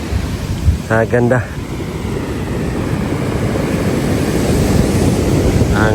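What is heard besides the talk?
ocean waves crashing on the beach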